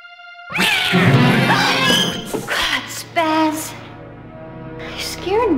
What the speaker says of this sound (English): Not a nice kitty.